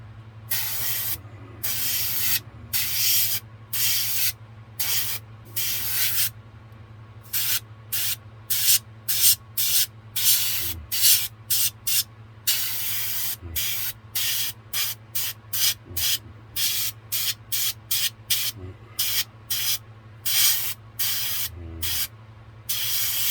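A spray can lays a light coat of paint on a model car in dozens of short hissing bursts, some quick and some longer, close and fairly loud, with a low hum in the background.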